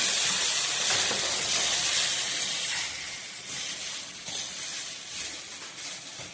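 Leafy greens hiss and sizzle loudly in a hot pan on a home stove, a steady steamy crackle that eases off slightly midway, with no talking.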